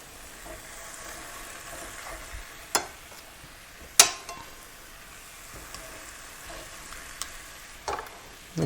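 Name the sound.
chicken frying in a pan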